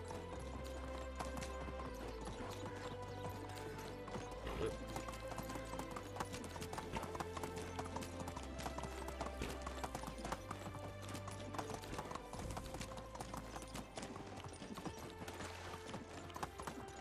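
Horse hooves clip-clopping at a steady run in the video game Medieval Dynasty, a constant rhythmic clatter of footfalls that continues unbroken, with a faint whinny and soft background game music beneath.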